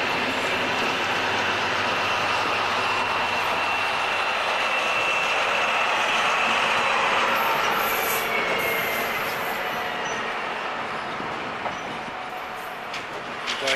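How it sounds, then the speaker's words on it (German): A locomotive, class 204, pushes a double-deck passenger train out of a station in winter in Thuringia, with a steady rumble of rolling wagons, metallic clanks and faint high wheel squeals, fading slightly toward the end. "204 drückt ihren Doppelstockzug raus."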